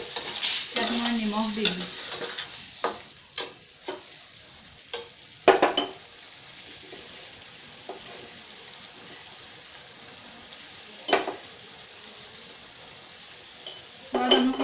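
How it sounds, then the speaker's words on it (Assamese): Mutton curry being stirred in a pot in an Assamese kitchen, a soft background simmer broken by repeated close spoon scrapes and clinks against the pot, with no talk. "মই এবাৰ লৰাই লৈ ইয়াত মই নিমখ দি দিম।"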